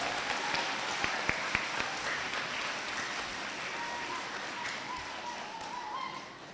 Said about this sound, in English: Can we give them a round of applause for putting this on?